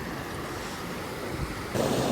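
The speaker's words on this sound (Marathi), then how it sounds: "इकडून नदी वाहती" Steady rushing water of a river in Pahalgam flowing nearby, a broad constant roar with wind buffeting the microphone, growing slightly louder near the end.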